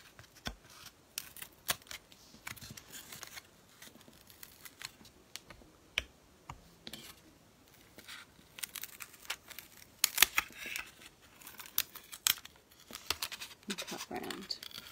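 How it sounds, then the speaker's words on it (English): Repeated crisp scissor snips and rustling paper crinkles, irregular and close, with quiet pauses between cuts, as paper is cut around marked lines for relief printmaking. "And now just take a pair of scissors"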